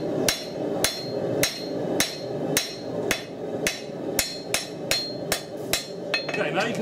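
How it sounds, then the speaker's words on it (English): A 1.5 kilogram hammer forges the tip of a steel knife on an anvil, ringing out in about a dozen loud, sharp blows at a steady, roughly half-second rhythm. "If I now hammer that back, you can see the formation of the little sharp little tip."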